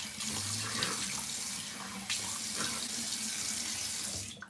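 Hot water runs steadily from a bathroom sink tap, a continuous close splashing stream with a brief surge near the middle, with no talking.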